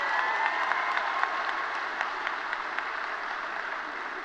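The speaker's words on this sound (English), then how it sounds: "Let's give him a round of applause" A crowd at a high school graduation ceremony applauds steadily, a full, even roar of clapping with scattered crisp hand claps near the front, continuing unbroken throughout.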